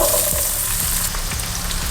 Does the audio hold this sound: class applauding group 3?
no